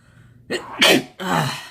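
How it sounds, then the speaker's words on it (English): A single loud sneeze bursts out close by, with a sharp intake of breath before it and a trailing exhale after. "There's the sneeze."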